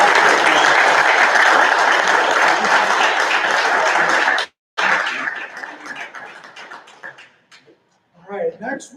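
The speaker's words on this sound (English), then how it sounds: "One more round of applause." Loud, dense applause fills a Colorado State Patrol awards ceremony for about four and a half seconds, cuts off abruptly, then trails into scattered clapping before a voice speaks.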